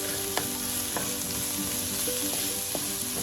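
Fresh diced sweet potatoes cooking in a pan for a black bean and sweet potato pie filling: steady frying sizzle with scattered clicking stirring strokes, close, no voices.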